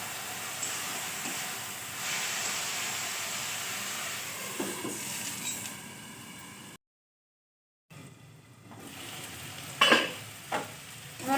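Bottle gourd pieces with turmeric and salt being stirred and fried in a kadai: a continuous mid-level sizzle with scraping stirs, a sudden brief silence, then sizzling resumes with a few sharp clinks.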